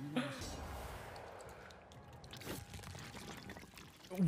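Anime water breathing technique effect from Demon Slayer, a short splashing, pouring rush of water swelling and fading, with a louder surge near the end.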